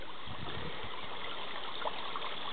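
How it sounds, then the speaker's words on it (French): A small river trickles and laps over stones near an old mill, a steady, soft, continuous babble of water with no voices. "j'adore quand même le clapotis de l'eau"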